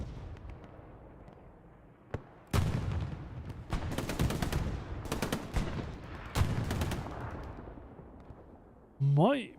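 Machine gun fire in a WWII online video game, several loud bursts of rapid gunshots mixed with scattered single shots and rumbling, with a brief voice near the end.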